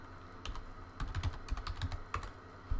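Computer keyboard typing while entering Python code: a quick, uneven run of close, crisp key clicks with short pauses between bursts, heard alone without speech.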